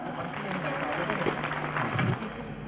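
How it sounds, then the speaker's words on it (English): Parents applauding and cheering at an international school's annual sports meet, a steady wash of clapping and crowd noise with a voice speaking over it. "Parents, please cheer them up."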